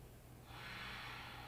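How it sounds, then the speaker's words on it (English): Slow, deep belly inhale during a foam rolling warm-up. A soft airy rush of breath swells and holds steadily over a low room hum, with no talking. "Take one more belly breath."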